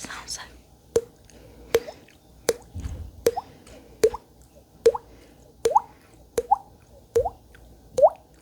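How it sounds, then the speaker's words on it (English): Water drips in a slow, steady rhythm, about ten clear plops roughly a second apart, close and distinct against a quiet background. "You see water dripping somewhere."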